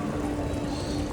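Water pours steadily from a tap at a food mall, a continuous close rushing flow with no pauses.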